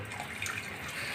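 Hot water pours into a cooking pot of meat for arvi gosht (taro root curry), a steady rushing splash filling the whole short stretch at close range, with no voices.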